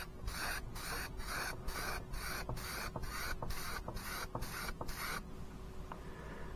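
Short bursts of spray paint hiss in a rapid rhythm as bronze is misted onto model exhaust pipes, about a dozen quick puffs close by, then a quieter tail of faint hiss.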